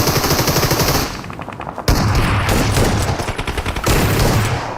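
Rapid automatic gunfire from a battle royale video game crackles loud and close in dense bursts, with a brief lull and a sharp new volley resuming.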